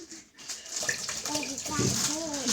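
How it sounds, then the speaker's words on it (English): Tap water runs steadily as hands are washed before cooking sourdough pizza and breadsticks in a home kitchen, a continuous close splashing with children's and an adult's voices talking over it. "we wash our hands before we cook"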